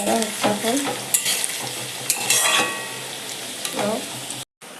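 Fish sizzles and spits in hot oil in a frying pan, a steady close crackle with louder bursts as pieces are turned, briefly cutting out near the end.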